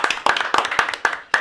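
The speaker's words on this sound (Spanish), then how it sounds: "un aplauso." A few people clap nearby during an interview, in short, uneven bursts of close, sharp hand claps with brief gaps between them.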